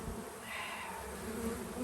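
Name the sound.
bees buzzing during package installation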